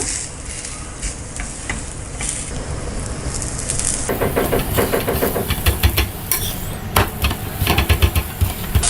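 Zucchini paratha cooking with a little oil on a hot tawa (flat griddle), sizzling steadily near the mic, louder crackling from midway with a few scraping or pressing sounds.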